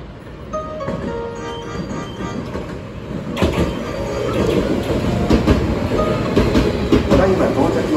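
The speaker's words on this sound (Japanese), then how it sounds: "1号線に神戸三宮方面へ向かう電車が到着します。" Hankyu Kobe Line train (1000 or 9000 series) pulling into a station platform, a loud steady rumble with rail clatter that swells as the cars arrive, with faint background voices.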